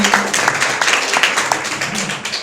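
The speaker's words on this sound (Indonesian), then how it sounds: "Beri tepuk tangan untuk Pak Hengki" Audience applause rings out for a man named Pak Hengki at a group gathering, a steady, dense patter of many hands clapping throughout, loud and close.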